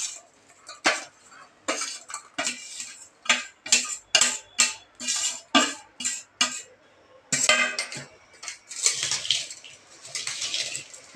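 A spoon stirs jaggery into a homemade sweet mango pickle mixture with a homemade spice blend, making rhythmic clinks and scrapes against the bowl in repeated close strokes, then a looser, softer mixing sound.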